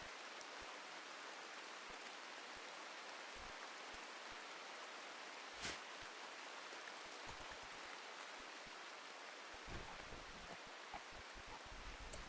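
Steady rain in the colony game RimWorld, a continuous hiss of falling water with occasional small ticks and pops, even and unbroken throughout, no voices.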